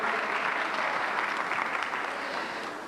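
An audience at a conference talk breaks into warm applause for a speaker, dense clapping from many people that fades slightly toward the end.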